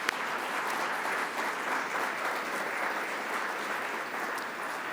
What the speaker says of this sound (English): Let's have another round of applause for all of them.